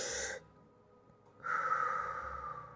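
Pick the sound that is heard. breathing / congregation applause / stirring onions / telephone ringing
breathing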